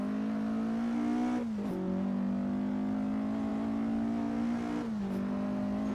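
Porsche 718 RS 60 Spyder engine in Assetto Corsa at Boavista 1958, holding a steady drone with two brief throttle blips as the pitch dips and recovers on downshifts, close and continuous.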